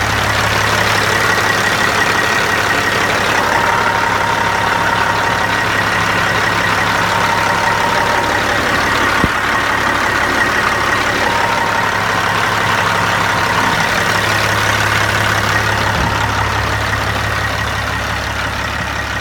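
A 2006 Peterbilt 379 truck with about 1.188 million miles idles steadily after running for some time, its engine giving a loud, continuous, even rumble heard up close with no talking.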